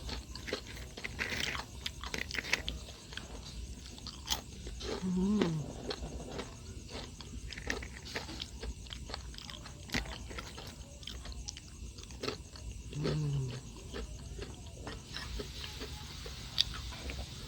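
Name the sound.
crunching and chewing homemade banana chips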